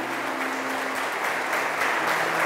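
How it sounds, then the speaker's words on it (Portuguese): A church congregation at a parish service applauds, a continuous bright wash of many hands clapping at moderate volume, heard alone without speech. "então não economiza aplausos e pode gritar se quiser de alegria."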